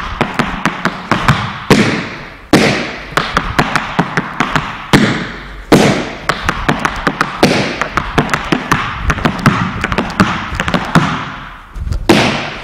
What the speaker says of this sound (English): Now we're getting to the time steps.